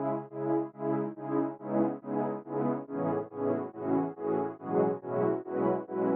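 Synth pad with EQ and a sidechain tremolator effect in an emotional guitar-beat loop: sustained chords pumping in an even rhythmic swell about twice per second, with a chord change midway; moderately quiet, no voices.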